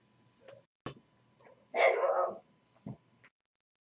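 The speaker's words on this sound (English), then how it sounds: "Hopefully he'll bark himself to sleep for a while." A dog barks in scattered bursts, a few short sharp yaps and one longer louder run of barking, heard fairly close indoors with quiet gaps between.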